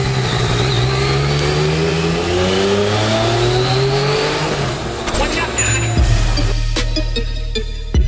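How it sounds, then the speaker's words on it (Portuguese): Yamaha MT-09 motorcycle with an 850 cc three-cylinder engine making 115 horsepower, revving loud and close with rising, gliding engine tones, followed by a rough, blustery shift as the ride gets underway. "O som do motor é prazeroso, os três cilindros é um diferencial da marca Yamaha."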